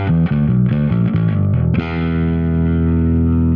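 A bass guitar played through a Neural DSP Nano Cortex pedal with distortion and drive, heavily overdriven notes in a short riff that ends on one sustained, buzzing note.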